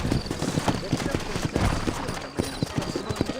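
Horse hooves clopping steadily in the Western video game Red Dead Redemption, a quick even rhythm of close, loud hoofbeats that run throughout.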